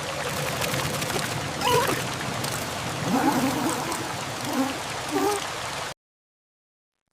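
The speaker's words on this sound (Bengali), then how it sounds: "মুষলধারে বৃষ্টি নেমে এলো যেন আকাশ ভেঙে পড়ছে" A heavy downpour of rain in a cartoon story: a dense, steady wash of falling water with a few brief splashy swells, close and moderately loud, stopping abruptly before the end.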